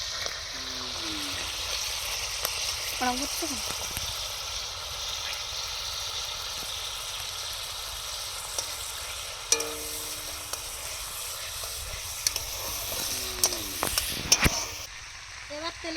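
Dried red chillies, cumin, star anise and whole garam masala fry in oil left from frying fish, giving a low, steady sizzle with occasional clicks and clatters, while a voice murmurs faintly in the background.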